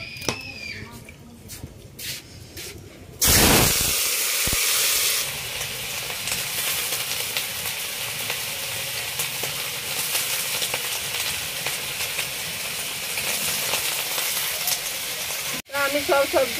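Cut ivy gourd, potato and eggplant hit hot oil in a pan with a sudden loud burst of sizzling, then keep frying with a steady hiss and occasional stirring clinks while a person talks.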